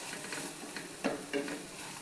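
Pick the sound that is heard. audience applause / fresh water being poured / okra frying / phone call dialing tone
okra frying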